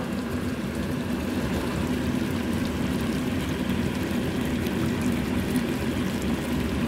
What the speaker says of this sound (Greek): Θα σβήσουμε με το κρασάκι.